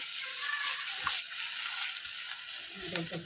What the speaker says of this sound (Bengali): জল দিয়ে এবার একটু নেড়ে নিচ্ছি মশলাটার সাথে